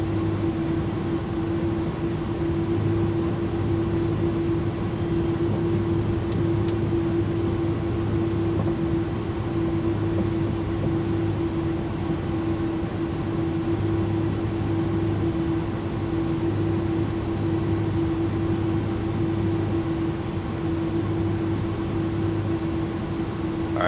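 An airliner sits at full takeoff power while lining up and starting its roll on runway 29 left. Its engines give a loud, steady roar with a constant high whine running through the whole stretch, and nobody speaks over it.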